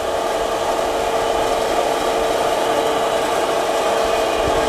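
A Massey Ferguson tractor idles steadily at a dairy farm while loading 18% calf meal from feed silos, a constant near engine drone with no break and no talking.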